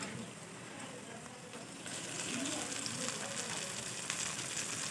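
Chopped tomatoes tipped into a pan of lightly fried onions for a baingan salan brinjal curry, the soft hiss jumping to a louder, denser sizzle partway through and carrying on steadily to the end.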